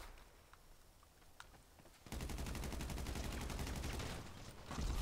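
Rapid automatic gunfire in GTA 5 Online, a quiet stretch with a few faint shots, then a sustained loud burst of repeated reports lasting several seconds.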